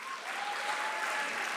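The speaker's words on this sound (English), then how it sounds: "You should all give yourself a round of applause." Student filmmakers at a film showcase get a brief, even wash of audience applause with many hands clapping together at moderate distance.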